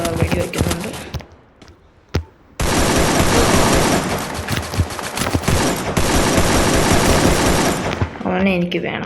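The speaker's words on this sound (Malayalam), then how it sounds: "ആരോ വെടി വയ്ക്കുന്നുണ്ട്." Rapid, loud bursts of gunfire in the Free Fire battle royale game crackle almost without a break after a short lull, with a voice heard briefly at the start and end.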